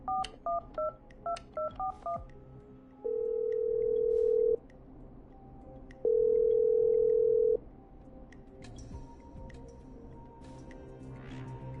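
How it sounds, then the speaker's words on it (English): Telephone dialing in the video game Killer Frequency: a quick series of touch-tone beeps, then two long steady ringing tones with a pause between them, all heard clearly and alone. "Okay, I'm dialing."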